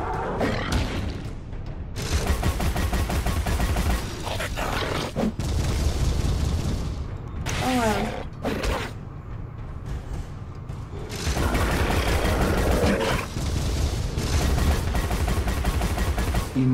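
Gunfire from Alice: Madness Returns rattles in long, dense bursts mixed with heavy booms and impacts, loud and nearly continuous, with short lulls between volleys and a grunt or two.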